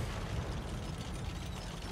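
Tank gun fire in a tank video game featuring the Caernarvon, a dense booming blast with rumbling low end that fills the moment and then decays into steady noise, with no talk over it.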